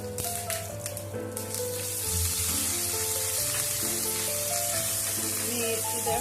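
Curry leaves hit hot oil with mustard seeds while tempering kumbalanga pachadi, a close, crackling sizzle that swells louder about two seconds in and holds steady over light background music.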